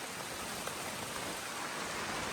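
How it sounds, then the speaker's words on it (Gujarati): Rain falling outdoors as a soft, even patter, a faint steady wash of drops with no break throughout. "ફેમિલી વરસાદ શરૂ થયો ભાઈ."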